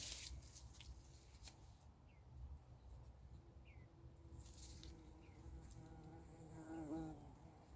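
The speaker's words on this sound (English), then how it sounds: "Full of bees, people." Faint, steady buzzing of bees among backyard flowers in late August, with a few quick passes nearby, alongside soft outdoor ambience and a brief chirp near the end.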